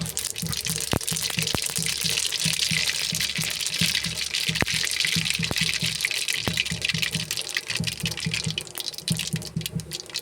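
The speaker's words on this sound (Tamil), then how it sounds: "எண்ணெய் காஞ்சிடுச்சு. கடுகு போட்டுக்கலாம்." Mustard seeds splutter in hot oil for a fish curry, a dense, loud, close sizzle broken by sharp popping crackles scattered through the whole stretch.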